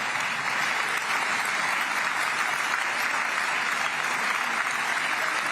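A large crowd applauds continuously, a dense, even roar of clapping that holds at steady loudness throughout with no pauses.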